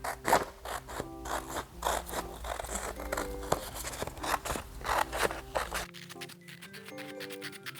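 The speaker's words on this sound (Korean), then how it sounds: "나비 모양을 오려주세요" Scissors snipping through coloured paper to cut out a butterfly shape, a steady run of quick crisp cuts and rustles, close and clear, ending with quieter paper handling and soft background music.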